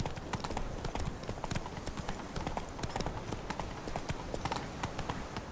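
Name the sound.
horse Roach galloping in video game The Witcher 3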